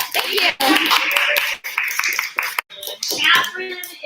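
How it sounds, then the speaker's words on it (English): A crowd at a business expo claps in a dense burst of applause, tapering briefly then continuing, with voices mixed in. "So, Catherine, round of applause."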